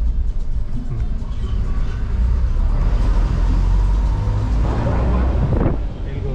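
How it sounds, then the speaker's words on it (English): Chicken buses and other traffic rolling along a street in Managua, Nicaragua, a steady loud engine rumble with wind buffeting the microphone and a vehicle roaring past close by near the end. "Chicken buses."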